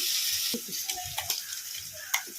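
Green chili paste goes into a hot pan of softened tomatoes for poha, giving a steady close sizzle with a few sharp scraping clicks of stirring and no talk.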